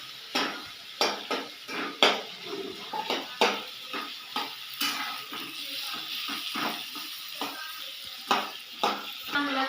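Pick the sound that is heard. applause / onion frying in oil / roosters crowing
onion frying in oil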